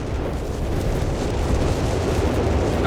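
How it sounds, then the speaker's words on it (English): Heavy artillery explodes without a break in a Company of Heroes 3 battle as a creeping barrage falls, making a loud, dense rumble of overlapping blasts that carries through the whole stretch with no voice over it. "Got massive artillery strikes here."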